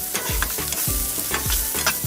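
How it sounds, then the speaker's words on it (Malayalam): Prawn cutlet mixture seasoned with garam masala and pepper is stirred in a frying pan, a spoon scraping in repeated strokes about every half second over a steady close sizzle, with no talking. "ഇളക്കിയെടുക്കണം."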